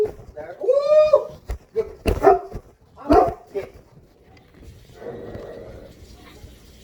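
A dog gives a few loud barks and whining yelps up close, then goes quieter, with someone speaking nearby.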